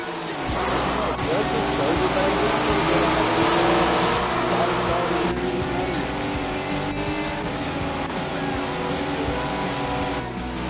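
Late model race cars roar around the I-84 Raceway track in a championship race, engines droning loudly and continuously while a commentator talks over the noise.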